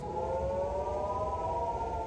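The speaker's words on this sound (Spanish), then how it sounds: "Las sirenas del territorio israelí se activaron rápidamente y se sintieron en lugares como Tel Aviv y Haifa." Civil defense air raid sirens wailing across Israel during a missile attack, a steady, loud, sustained tone with layered pitches droning without a break.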